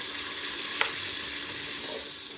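Onions sautéing in a pan for Tiruppur chicken biryani, a steady close sizzle with a sharp spatula scrape on the pan near the start and another soft stir later.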